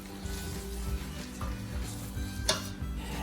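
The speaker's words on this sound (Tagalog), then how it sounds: "kaya lagyan natin siya ng water. Haluin ng bahagya." Spaghetti in a garlic-oil pan, just loosened with added water, stirred gently: a soft steady sizzle with low rumbling bubbling and one brief metallic clink, no talking.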